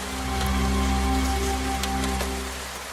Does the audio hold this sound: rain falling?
yes